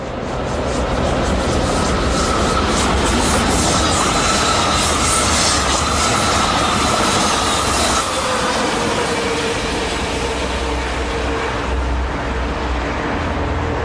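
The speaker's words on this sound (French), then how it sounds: "Sur voie 2 rapide, se présente une rame dite de la Grande Couronne" A Grande Couronne suburban train set from La Roche passes on the rapid track of the Paris–Dijon line, a loud, sustained rush of wheels and carriages with clattering and a faint squeal, fading slightly toward the end.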